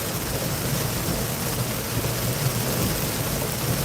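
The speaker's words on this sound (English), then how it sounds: "But yeah, here's all the rain." Heavy storm rain roars steadily from inside a car, a dense broadband hiss with a low rumbling undertone, constant and loud with no voices.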